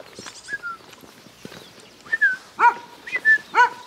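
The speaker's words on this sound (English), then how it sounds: "stray dog." A stray dog barking outdoors near the White Horse of Kilburn, several short sharp barks in an uneven series, moderately close, with quieter sounds in between.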